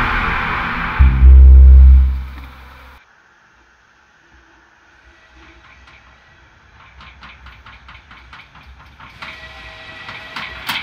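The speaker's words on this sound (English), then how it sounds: "Is that a train?" A loud train whistle blast and rumble up front in a video game, then quieter rhythmic clacking of a train rolling along, growing busier toward the end.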